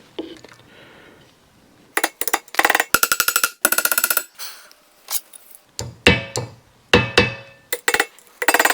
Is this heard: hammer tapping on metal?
yes